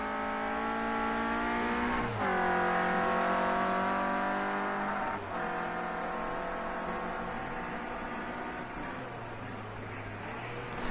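Renault Clio Cup race cars scream around the Alton Park circuit, a close engine note holding high and steady with brief dips at gear changes, continuous and loud with no talking.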